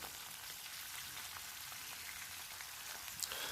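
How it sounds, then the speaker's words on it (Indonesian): Salted fish fries in oil in a pan with a steady, soft, close sizzle and crackle that stays even throughout. "goreng ikan asin dengan secukupnya minyak. Oke, ini saya akan goreng sampai warnanya kecoklatan ya."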